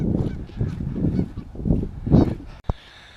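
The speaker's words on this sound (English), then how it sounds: "Oh, some geese." Geese honk in a muddy field, several loud, close calls in quick succession for about two and a half seconds, ending with a sharp click and quiet.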